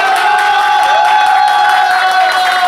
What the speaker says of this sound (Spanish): ¡Fuerte el aplauso para la concursante número 2!